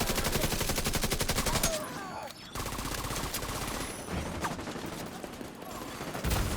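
Sustained rapid automatic gunfire in The Division 2, dense and loud almost throughout with a brief pause, with a voice speaking underneath.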